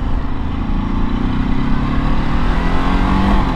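A Ducati Desert X motorcycle rides a dirt road, its engine a loud, steady close-up drone whose pitch creeps gradually upward, with rough broadband wind and road noise throughout.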